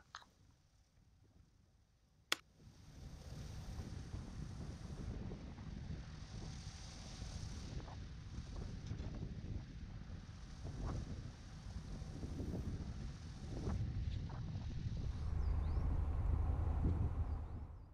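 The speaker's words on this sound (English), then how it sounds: "it's been a particularly windy trip so far" Steady wind buffets the microphone for a long stretch, a rumbling roar that swells louder toward the end, broken by a sharp knock early on.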